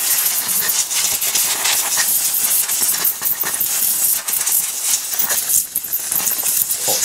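Steady hissing spray of water rinsing off a dust-smothered Honda HRX476 lawnmower, continuous and close with no pauses.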